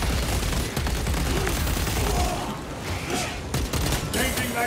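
Rapid carbine fire in Warhammer 40K: Space Marine 2, loud bursts of dense gunshots with a short lull before more shots, heavy battle noise all through and talking mixed in.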